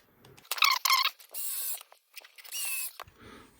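Small 2.5 by 6 mm screws are driven into a Tamiya Bug body dashboard, giving close, crisp bursts of ratcheting, clicking mechanism noise in several short runs of about half a second each, with no talk.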